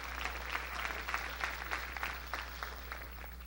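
Faint, rhythmic congregational clapping in a church service, even repeated claps at a quick steady pulse under a constant low hum, sounding distant.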